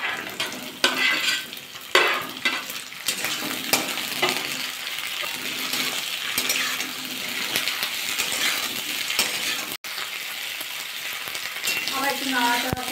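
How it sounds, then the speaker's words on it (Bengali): Onion and flat beans fry together in a pan, with a continuous sizzle broken by repeated scraping stirs and clinks of the spatula, close up and mostly without talk. "একসাথে ভাজা করে নেবো পেঁয়াজ দিয়ে শিম দিয়ে"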